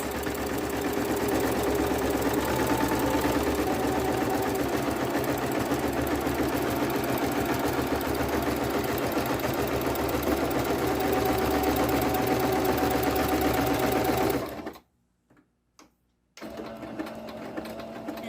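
Sewing machine with a walking foot quilting a quilt-as-you-go piece, a loud rapid mechanical chatter running continuously, then stopping abruptly with a couple of brief bursts before resuming.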